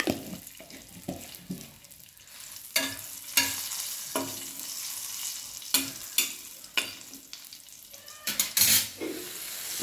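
Green chillies frying in a pan for a Navratri fasting dish, with clattering stirring scrapes and sharp spatula knocks over a steady low sizzle, close and moderately loud, no talking.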